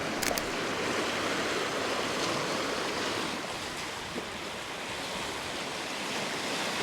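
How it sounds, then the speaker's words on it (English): Rough sea waves churn steadily on a windy peninsula, a dense continuous wash of surf and gusting wind with no voices, fairly close and constant in level. "I like the sea when it's kind of rough like that."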